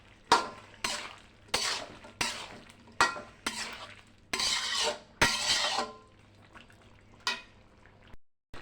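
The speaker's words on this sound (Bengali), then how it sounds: "এবার নেড়ে চেড়ে মিশিয়ে দেবো" Drumstick (sajna danta) curry being stirred in a pan, a spoon scraping and sloshing through it in repeated close strokes, about ten of them, with short pauses in between and no talking.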